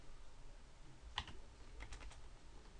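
Short bursts of keystrokes on a computer keyboard, a few quiet clicks close by over a low background hum, with no voices.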